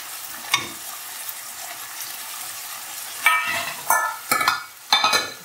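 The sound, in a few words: frying onions and tomato for upma in a pan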